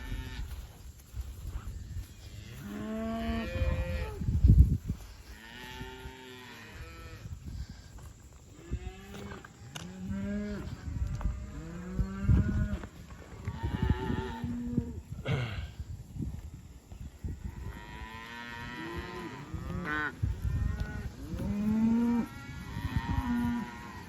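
A herd of cattle on a pond dam moos repeatedly over a long stretch, overlapping calls from several animals near and farther off, some deep and rough, with scattered rustling between them.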